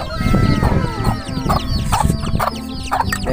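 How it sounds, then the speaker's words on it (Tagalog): Chickens cluck loudly and close by in a backyard coop, overlapping rhythmic clucks with a busy low background of farm noise and other birds. "Dito nga yung mga manok natin."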